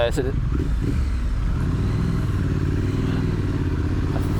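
A Triumph Street Scrambler motorcycle engine runs steadily and close by, a continuous low, loud drone with a slight rev early on, while a rider talks over it.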